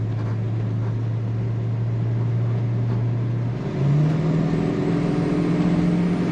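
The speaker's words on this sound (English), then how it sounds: "Putting that throttle down, you feel the torque. It's got the power, very fun to drive." A 1970 Plymouth GTX muscle car accelerates with the throttle down, its steady engine drone rising in pitch partway through as the revs climb, loud and continuous with no speech.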